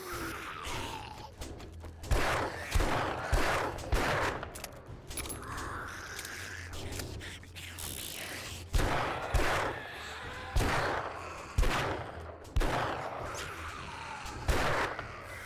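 Repeated loud gunshots, fired as headshots in the zombie survival game 7 Days to Die, ring out at a steady, spaced rhythm, each with a short echoing tail and little talk between them.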